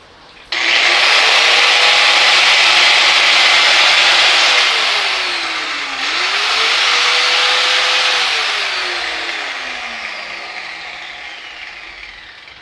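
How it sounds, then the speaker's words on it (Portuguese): A power sander, powered through a modified-wave voltage inverter, whirs loudly, its pitch dipping and rising as it runs, then winding down slowly toward the end. "a que exige mais carga é a lixadeira"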